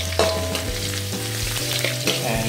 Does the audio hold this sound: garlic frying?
yes